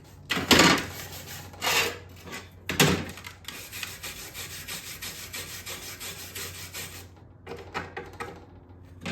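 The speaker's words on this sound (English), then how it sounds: "Let me scrape it down." A hand tool rasps and scrapes back and forth over a fresh flux core weld on a small metal board, with harsh strokes at first settling into steady close scraping.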